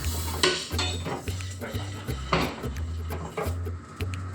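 Salmon fillets being turned in a frying pan, with repeated metallic clinks and scrapes of a utensil against the pan at a steady rhythm, close and fairly loud.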